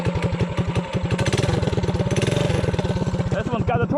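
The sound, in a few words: minibike 212 engine running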